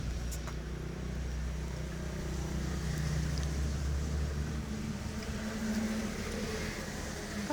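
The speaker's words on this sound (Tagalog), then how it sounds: "may mga nagdadaanan pang ang truck dito" Heavy trucks rolling past on a nearby bypass road, a continuous low engine and tire rumble that stays steady and fairly loud throughout, with faint rain in the background.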